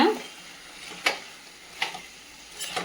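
Chicken sukka sautéing in a pan, a soft continuous sizzle broken by three sharp spoon scrapes against the metal at roughly even intervals, close by with no speech.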